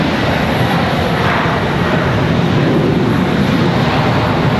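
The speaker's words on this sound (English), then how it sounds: "Sounds like we've got somebody getting ready for departure. There you go, an A321." An Airbus A321 airliner departing Charlotte Douglas International Airport, its engines producing a loud, steady, broad roar that fills the whole stretch without letup.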